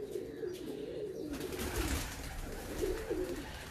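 A pet breeder pigeon of the Hino, or Dub, type makes soft, low, rolling coos in a few short phrases, somewhat distant, against a steady room hiss and a faint broadband rustle partway through.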